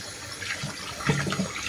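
Raw chicken pieces rinsed in water in a kitchen: a short burst of splashing and swishing water, close and moderately loud, with a stronger slosh about midway, and no voices.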